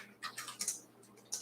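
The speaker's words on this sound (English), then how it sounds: "Hey, do some typing" Quick, uneven clicks of fingers typing on a computer keyboard, a short burst of keystrokes sounding quiet and close with no voices.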